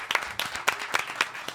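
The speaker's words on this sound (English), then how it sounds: "Give it a clap for him." Scattered clapping from a small live audience at a Dota esports talk show at the Stockholm Major, with a handful of sharp, uneven claps over about a second and a half, fairly quiet and not a full ovation.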